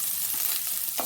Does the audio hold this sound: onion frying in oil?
yes